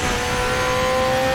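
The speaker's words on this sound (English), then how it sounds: "And just listen to the engine as well, seriously." Group 5 Zakspeed Capri race car engine in RaceRoom Racing at Zolder, a loud sustained high-revving roar with a steady tonal whine, close and continuous for a brief moment.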